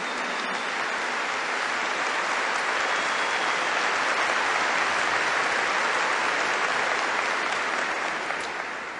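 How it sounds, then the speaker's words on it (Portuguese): Sustained congregational applause fills a church service with a Portuguese-language sermon, a dense even wash of many hands clapping at steady loudness for the whole stretch, with no speech over it. "Give the Lord a big clap"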